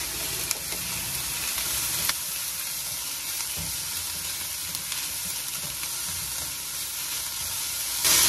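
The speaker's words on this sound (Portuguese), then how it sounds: "agora vou colocar o pimentão" Round slices of half a yellow and half a red bell pepper sizzle in a pan with sautéed onion. The frying hiss is steady and close throughout, with a few clacks and stirring sounds and no talk.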